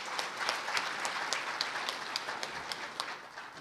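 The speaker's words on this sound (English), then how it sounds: "Please give him a deserving round of applause." Audience applause after a speech at the official launch of a national housing policy, steady dense clapping from a crowd heard from moderate distance, sustained with no talk over it.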